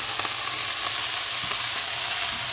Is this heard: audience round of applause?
no